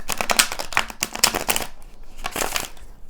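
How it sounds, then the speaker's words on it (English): Tarot cards are shuffled near the microphone in quick rustling riffles. A dense flurry is followed by a brief lull and then another riffle burst, loud and with no talking. "I love how I was just shuffling these cards."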